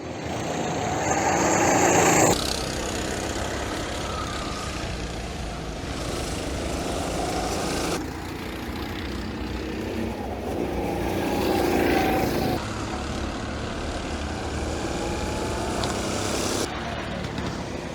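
A racing car on a flying qualifying lap produces a continuous engine roar heard at a distance, rising and falling in broad swells with abrupt shifts in tone as the car moves around the circuit.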